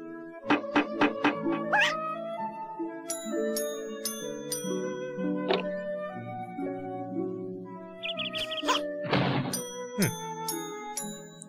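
A cartoon cat in the adventure game Toonstruck meows a few times over bouncy, chiming music with bright plucked and bell-like notes.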